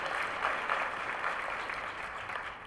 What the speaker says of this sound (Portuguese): Umas palmas para eles